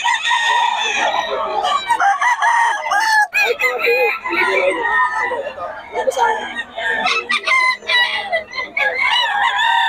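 A Kanawayon Hatch rooster crows repeatedly at close range, loud drawn-out calls overlapping with other clucking fowl at a market, with people talking between crows.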